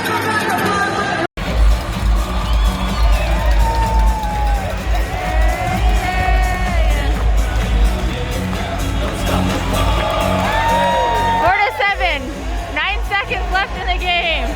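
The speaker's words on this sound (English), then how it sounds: "Give Michael a round of applause" A crowd at a Solar Bears hockey game roars and cheers after a goal, with whoops, whistles and arena horn-like tones over a dense, loud sustained din. Nearby voices talk and shout through it.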